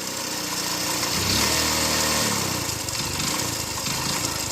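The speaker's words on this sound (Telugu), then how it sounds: "బండి రేట్ చేస్తుంటే మనకు ఇంజన్లో కనెక్టింగ్ రాడ్ సౌండ్ వస్తుంది చూడండి" A motorcycle engine being revved while its connecting rod knocks, giving an uneven mechanical rattle over a steady running note. It swells and then falls back partway through, close and moderately loud, with no talking.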